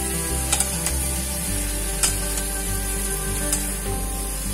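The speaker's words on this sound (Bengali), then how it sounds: "এবার সব ভালো করে মিশিয়ে দেব।" Boiled cauliflower stems are stirred in a sizzling pan for a vegetarian Bengali chorchori, with a steady fry hiss and several sharp spatula scrapes and taps.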